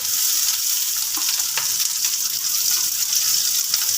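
Onion frying in hot oil gives a loud, steady, close sizzle with a few light taps mixed in, and no one speaks.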